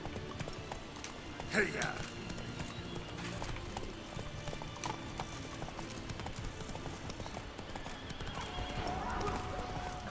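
Roach, the horse in The Witcher 3, trotting with steady clip-clop hoofbeats and an occasional whinny, while someone talks briefly over the game sounds.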